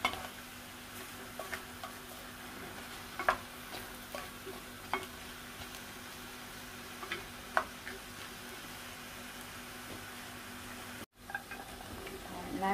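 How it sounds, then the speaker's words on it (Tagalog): Squash with fish sauce is stirred in a pot for a coconut-milk squash and shrimp dish: quiet, irregular spoon clicks and taps over a faint low sizzle. "Halo-haloin lang natin."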